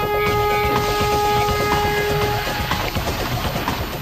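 Roller coaster train launched along its track during night test runs, a loud steady rushing roar with a sustained tonal whine that fades partway through, the rumble continuing throughout.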